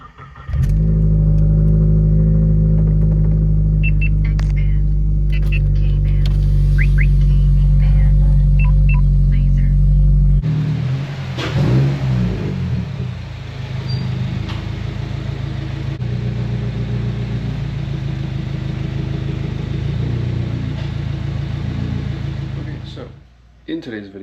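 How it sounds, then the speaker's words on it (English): A Subaru WRX engine, with its duckbill intake part removed, fires up hot close by and settles into a loud, deep rumbling idle, then shifts to a rougher, revving drone that continues until cutting off. "So I guess let's just get a dang hot start."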